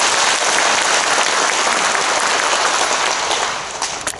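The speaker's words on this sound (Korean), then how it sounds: "큰 박수 부탁드립니다." Loud, dense applause from an audience at a school entrance ceremony, broadband clapping filling the room steadily for several seconds before thinning slightly at the end.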